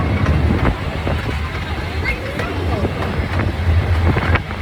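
A Disneyland amusement park train ride rumbles steadily with rattling, clacking and wind buffeting the microphone, loud and continuous throughout.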